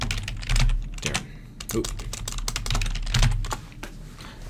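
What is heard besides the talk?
typing on a computer keyboard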